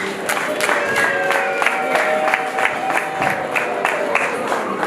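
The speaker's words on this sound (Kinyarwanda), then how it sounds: "Tubaha abakiri impundu rwose." Guests at a wedding ululate in high, wavering trills over a lively crowd with rhythmic clapping, loud and close, repeated bursts blending into continuous celebration.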